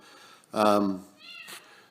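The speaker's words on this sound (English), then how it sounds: "We still got the cat going nuts" A cat meows loudly and insistently inside a barn being set up as a haunted house, one long drawn-out yowl followed by a shorter call, close to the listener.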